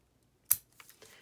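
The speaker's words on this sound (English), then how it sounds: "I'll take the scissors, I'll just cut that in half" A single sharp snip as scissors cut a folded card in half, crisp and close, followed by a few soft rustles of the paper being handled.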